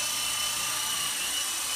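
A small toy-sized helicopter with rotors spinning too weakly to lift it, giving a steady, high-pitched whirring drone that runs unbroken at close range.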